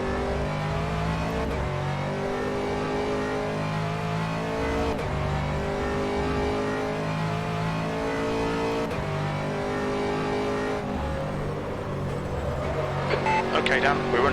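Aston Martin race car lapping Silverstone in a racing game, its engine droning loud and steady with harmonic revs rising and falling through gear changes, closing on a brief squeal and rattle near the end.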